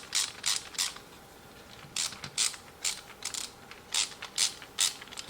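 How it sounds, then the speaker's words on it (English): A screwdriver tightens screws on a toy RC water-spraying fire truck, giving a rapid run of faint ratcheting clicks that come in short, regular bursts up close. "a little tightening down with the screwdriver"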